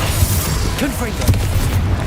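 A Confringo fire spell blast from the video game Hogwarts Legacy: a low booming burst with a crackling tail, loud and close, with spoken voice partly overlapping.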